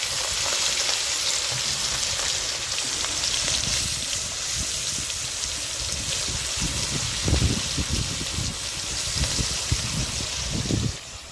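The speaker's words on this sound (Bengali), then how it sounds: "দেখি এখন মাছগুলো ভেজে নিচ্ছি" Prawns seasoned with salt and turmeric fry in oil in a wok, a loud, constant spitting sizzle with occasional bursts of scraping and stirring near the end, no speech.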